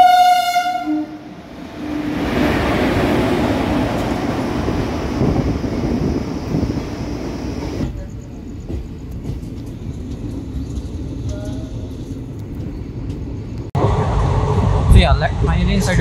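A passenger train at a station sounds a loud horn in a stacked tonal blast at the start, followed by rumbling rail noise and wind buffeting as someone talks over it.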